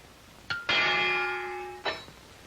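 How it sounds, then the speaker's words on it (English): A boxing match bell rings once, loud and close, a brief struck tone followed by a long sustained metallic ring that fades slightly, then a second short strike near the end. "And here's the bell."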